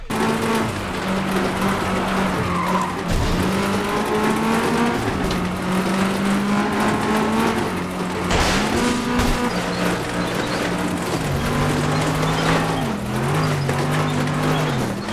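A racing car engine in the video game FlatOut 2 revs and shifts continuously, its pitch climbing and dropping through gear changes, loud and steady with occasional rough sputters from crash damage.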